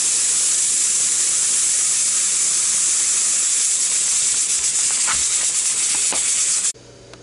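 Loud, steady steam hiss blasting from the valve of a pressure cooker holding chicken and dumplings, continuous for several seconds before cutting off abruptly.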